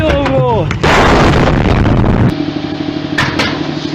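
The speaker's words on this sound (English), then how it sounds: "There's a nice Russian missile launch." A Russian missile launch plays out as a loud, sustained roaring blast with booming low rumble for about two seconds, then continues as a steadier thrumming roar; brief sharp tones precede it.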